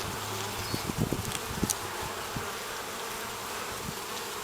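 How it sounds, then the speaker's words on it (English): Honeybees hum steadily around a hive just after a swarm, a dense continuous insect drone with a few louder passes close by. "looks like I still have lots of bees"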